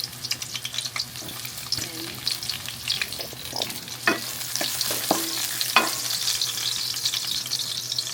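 Onion and garlic fry in olive oil with a busy, continuous sizzle and crackle, punctuated by scraping stirs and clinks of a utensil against the pan.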